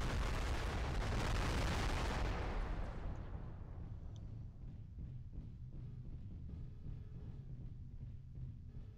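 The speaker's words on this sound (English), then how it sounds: "Firing on Mauler, incoming missiles," Incoming missiles explode in the MechWarrior Living Legends video game as a loud, dense blast of rumbling detonations that fades into a lower, crackling rumble with scattered distant impacts.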